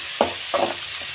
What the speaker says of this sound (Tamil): வெங்காயமும் கருவேப்பிலையும் போட்டுட்டு நல்லா வதக்கிக்கலாம்